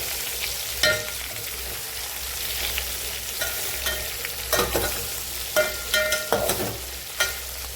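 Eggplant pieces sizzle in hot oil in a pan, with a steady frying hiss, while a spatula scrapes and turns them in a few sharp clinks and scrapes spaced through the stretch.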